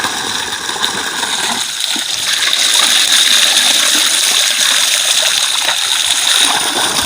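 Water splashes and pours steadily while someone bathes wearing a helmet to keep their head dry, a continuous close wash of running and spattering water with no voices.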